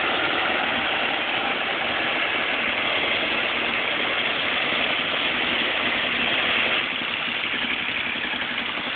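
A building compactor runs nonstop beside an apartment, a loud, steady low rumble and drone with vibration rattling the rooms, unchanging throughout.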